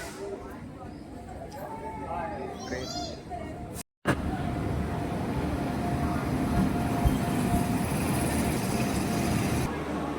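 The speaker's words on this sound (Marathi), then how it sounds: "ही बघा, फायनली ट्रेन आलेली आहे." A train arriving at a station in Sindhudurg rumbles steadily in the background, a continuous heavy roar, while people talk over it early on.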